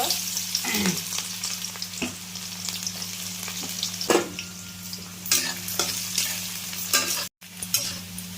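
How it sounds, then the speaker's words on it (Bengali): Onions sizzle steadily in hot oil while a utensil scrapes and stirs the pan in several distinct strokes, with no voices. "এবার আমি পেঁয়াজগুলো ভাজবো।"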